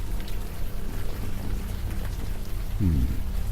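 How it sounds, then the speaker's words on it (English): Rain falls in the video game Unavowed as a constant hiss over a low rumble, fairly loud and close. A brief low groaning tone rises near the end. No one speaks. "Now that it's out of the open air, the warm rain is coming down."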